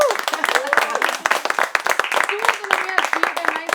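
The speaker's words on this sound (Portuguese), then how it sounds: "receber os seus aplausos." An audience applauds steadily, dense and sustained clapping throughout, close and lively, with a voice briefly heard over it.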